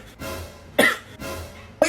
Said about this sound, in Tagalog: Umuubo lang naman ako.